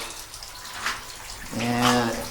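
Water flowing through an old mine tunnel, a soft splashing trickle with faint drips, joined near the end by a voice talking over it.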